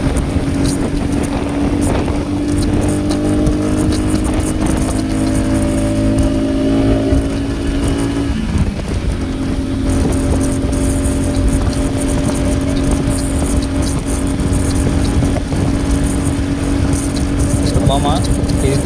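A Royal Enfield Classic 350 motorcycle accelerates hard through its gears, giving a loud, steady engine drone that dips briefly at a gear change and then resumes, with wind rush and a voice talking over it.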